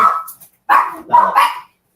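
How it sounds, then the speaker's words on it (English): A dog barks sharply indoors, three or four loud, close yips and barks in quick bursts with short pauses between them, alone without talk. "Gotta love the dogs barking."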